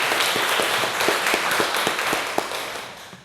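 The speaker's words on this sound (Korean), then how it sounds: "우리 하나님께 영광의 박수 한번 올려드립니다" Church congregation clapping together after a praise song, a dense steady wash of applause with a few sharper individual claps, fading slightly toward the end.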